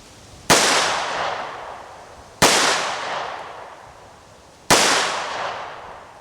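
Three loud, sharp shots ring out from a TISAS M1911A1 pistol fired at a playing card, evenly spaced about two seconds apart, each with a long echoing decay.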